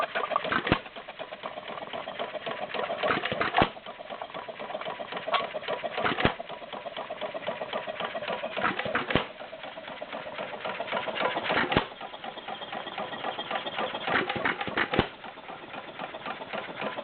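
Stover CT-2 hit and miss engine running steadily at about 500 RPM, a continuous mechanical chugging marked by sharper periodic firing beats every few seconds.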